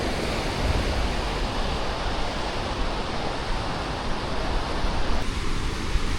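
Sea waves wash onto a beach in Vietnam, a steady broadband roar of surf that stays even and continuous throughout, with no voices.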